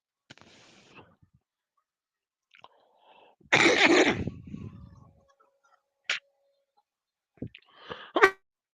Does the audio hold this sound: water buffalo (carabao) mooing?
no